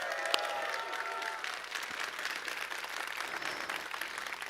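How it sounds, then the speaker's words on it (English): An audience applauds at an E3 2019 gaming presentation, sustained clapping from a large indoor crowd that continues steadily throughout without a break. "be joined by the one and only Jeff Keighley, so let's give him a big round of applause."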